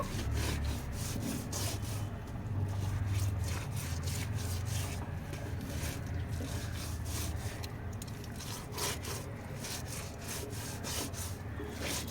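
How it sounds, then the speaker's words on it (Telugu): Whole fish scraped against a floor with finger millet flour and salt to clean it, a steady rasping, rubbing scrape repeating in strokes throughout, close and fairly loud with no talking. "చేపని రాగిపిండి ఉప్పు వేసి నేలకు వేసి నీట్గా గీకేసాం కదా"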